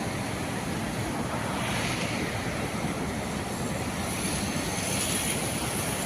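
Fast-flowing water of the Palar river rushing near a bridge in the M.M. Hills area of Karnataka, a steady loud broadband roar with no break, heard alone without voices.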